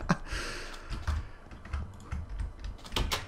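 Quick bursts of computer keyboard typing, close and fairly quiet, with uneven clusters of sharp key clicks and a few louder taps, alone without speech.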